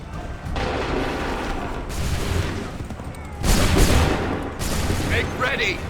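Musket volley fire in the Assassin's Creed III video game, rolling crackling bursts of massed gunfire in loud waves, with a heavier volley near the middle and shouted commands mixed in.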